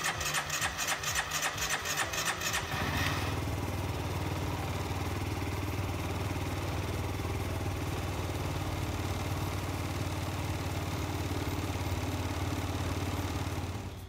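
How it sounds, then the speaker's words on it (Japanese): A Yamaha VOX moped scooter engine cranks with a rhythmic starter whir for about three seconds, then catches and settles into a steady, close idle that runs on alone. "ちょっとこれでエンジンかけてみましょう。"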